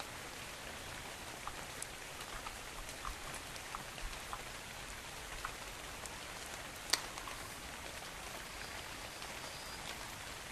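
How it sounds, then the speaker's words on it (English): Rain falls steadily in a fantasy video game world, a dense even hiss of drops with a few louder spatters, heard alone at low level. "Rainy, rainy, rain."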